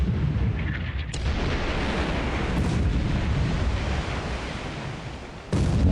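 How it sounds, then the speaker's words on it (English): Explosions rumble aboard the Japanese battleship Fuso in a World War II naval war game, a dense low roar with sharp bursts near the start and a louder blast near the end. "Explosion. So that's multiple explosions on board the Fuso."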